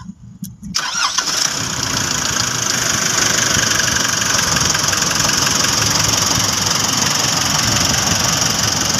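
A car engine cranks and catches after a brief starter whirr, then settles into a loud, steady idle that runs on close by, with no talk over it.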